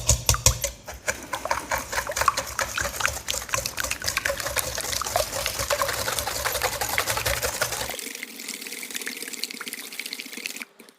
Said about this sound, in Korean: 휘스크로 잘 섞어줍니다.